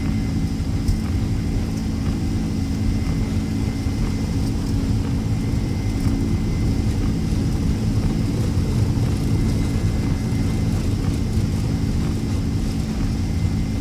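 An airliner rolls down the runway for takeoff in the X-Plane 12 flight simulator, a steady, loud engine roar with a constant low drone and tonal whine throughout.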